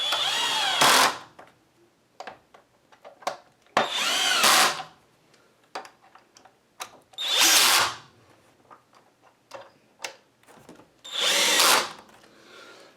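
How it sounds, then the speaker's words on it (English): Bursts of a power drill with its clutch set low, driving screws into a Hoover Tempo upright vacuum during a tune-up, several loud whirring runs separated by pauses and small clicks and handling knocks. "if you are opting to use a drill, make sure you use one with the clutch in it"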